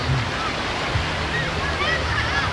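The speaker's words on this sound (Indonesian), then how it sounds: "Kondisi ombak nampaknya sedikit lebih besar" Surf at Lagundi beach in Carita washes in a steady, loud roar of breaking waves as the afternoon tide rises, continuous and close, with faint voices mixed in.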